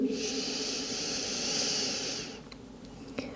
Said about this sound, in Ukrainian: Давайте ще раз зробимо разом великий вдих.